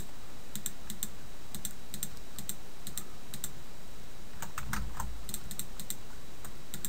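Computer keyboard keys and mouse buttons click in rapid irregular clusters during digital texture painting, crisp and close with short gaps between bursts.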